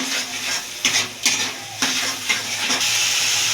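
Spice masala being stir-fried in a pan for potato and egg phulori, a loud hissing sizzle with several distinct scraping strokes of the spatula, and no talking.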